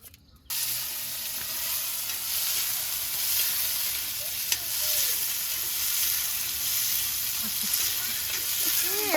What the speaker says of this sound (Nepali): तरकारी पाक्दैछ।